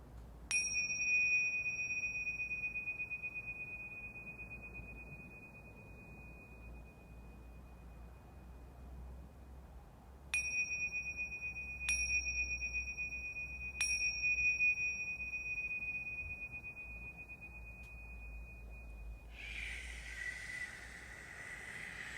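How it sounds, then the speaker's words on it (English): Clear, pure bell tones ring out and sustain long, one strike early and then a few more struck in close succession, over a soft low hum, ending a guided breathwork session. "with the sound of the bell"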